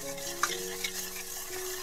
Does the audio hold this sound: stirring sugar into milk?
yes